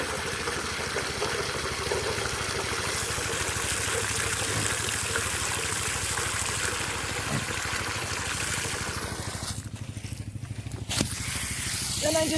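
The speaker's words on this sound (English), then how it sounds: "refresh the water in here for the piggies" Water pours steadily into a pig trough on a farm during morning chores, a continuous broadband splashing and trickling that runs close and loud, briefly thinning near the end before resuming.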